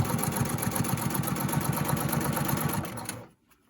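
A sewing machine runs steadily, stitching across the top edge of a fabric face mask with a fast, even chatter, then stops near the end.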